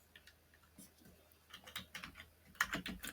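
A computer keyboard is typed on close by, with quiet, irregular keystrokes that grow into a faster, louder burst of clicks toward the end.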